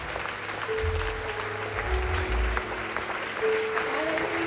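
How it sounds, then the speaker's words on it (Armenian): Church congregation applauding during a Good Friday service, a broad rush of clapping lasting the whole moment, with low rumbling tones and a sustained hum-like pitch running beneath it. "Ծափ տվեք Հիսուսին։"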